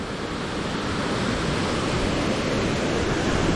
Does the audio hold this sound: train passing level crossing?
no